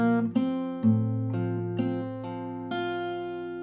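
Fingerstyle acoustic guitar plays a segment of 10,000 Reasons: five or six plucked notes and chords in quick succession, each ringing into the next, close and clear with no voice.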